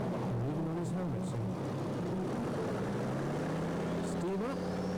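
Pulling tractor engine during a 1997 European Cup tractor pulling run at Windenhof, France, a distant droning roar that rises and falls in pitch while an announcer talks over it.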